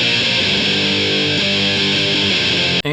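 Distorted electric guitar played through a Mesa amp impulse response rings out as sustained, thick chords, loud and alone, ending abruptly with a short break.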